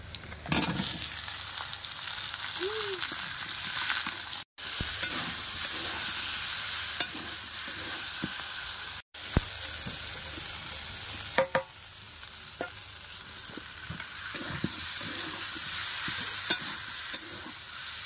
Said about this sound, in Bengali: পেঁয়াজ আর 5 ফোড়ন তেলের উপর দিয়ে দিয়েছি।